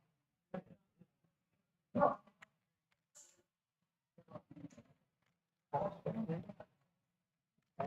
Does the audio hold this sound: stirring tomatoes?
no